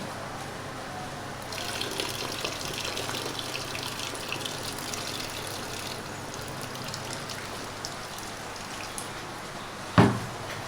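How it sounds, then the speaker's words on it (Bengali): Moong dal, masoor dal and Gobindobhog rice being washed in water by hand, a steady soft splashing and trickling throughout, with a sharper slosh near the end. "মুগ ডাল মুসুরির ডাল আর গোবিন্দভোগ চাল আর এখানটা এখন ধুয়ে নিচ্ছে"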